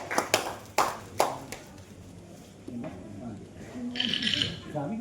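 Audience at a mushaira for a poet gives a few short bursts of clapping near the start, then fades as a voice speaks over a murmuring hall.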